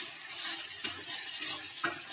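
Chicken frying in a pan with turmeric powder and salt gives a steady, close sizzle, broken twice by brief sharp scrapes of a spoon against the pan.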